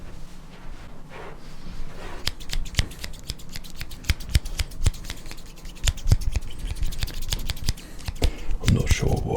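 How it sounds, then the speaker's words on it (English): Barbershop-style scissors snipping with a deep, gentle tone, rapid close blade clicks in a steady, busy rhythm over a soft background. "it doesn't have the traditional snip of the scissors, but it has the deep, so just nice, gentle"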